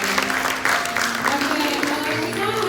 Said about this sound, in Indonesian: Kasih tepuk tangan yang luar biasa dulu.